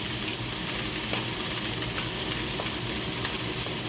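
Salmon fillets sear in a hot frying pan, giving a steady, close, dense sizzle with faint crackles and no voices throughout.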